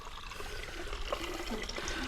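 A kitchen tap fed by a well pump runs steadily, the water pouring into a vessel with a soft, continuous splashing trickle at close range.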